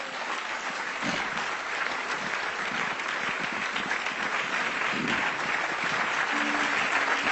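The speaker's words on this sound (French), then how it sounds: "Acclame Jésus" A church congregation claps loudly and continuously in acclamation of Jesus during a French-language worship service, a dense, sustained applause filling the room with faint voices beneath.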